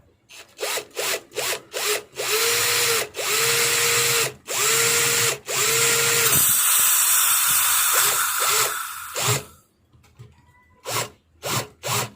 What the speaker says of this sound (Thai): ทีนี้ครับเราก็จะมาทำการเจาะรูนะครับ